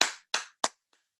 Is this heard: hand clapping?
yes